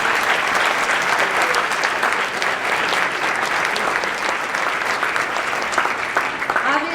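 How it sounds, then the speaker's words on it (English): A large audience at an early college high school symposium applauds students in a loud, dense, sustained round of clapping that fills the room for several seconds, with faint crowd murmur mixed in. "Please join me again and give them a round of applause."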